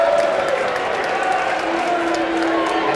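Crowd noise from Hempfield fans at a Little League baseball final against Warwick: a steady, fairly loud wash of cheering and chatter that runs through the whole stretch.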